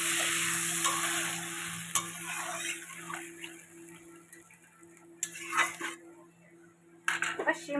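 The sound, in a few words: gravy added to frying fish curry in pan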